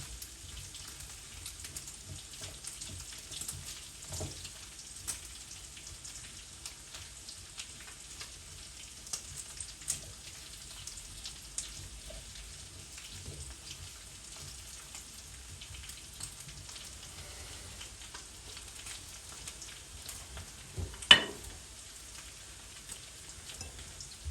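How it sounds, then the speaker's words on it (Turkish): Steady sizzling of onions and garlic frying in a hot pan, with scattered crackles and one sharper pop near the end. "Soğan ve sarımsaklar bütün atıldı."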